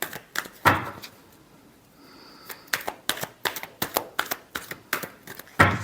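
A deck of tarot cards is shuffled close up, with quick papery riffles and snaps arriving in an uneven, rapid rhythm after a short quiet pause.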